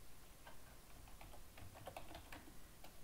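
Faint, quick key taps on a computer keyboard as a password is typed, a soft irregular patter of clicks over a quiet hiss.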